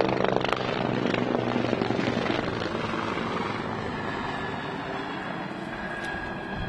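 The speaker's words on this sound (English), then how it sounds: "that's our new helicopter" A fire and EMS department helicopter drones steadily and loudly throughout, its rotor chop and engine noise forming a dense, continuous roar with no talking.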